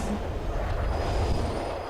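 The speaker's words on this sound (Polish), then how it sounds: "A ten pociąg tu daje głośno." A loud, steady rumble of a train passing in the Hitman: Absolution video game, a continuous low roar with rolling wheel noise and a faint high whine.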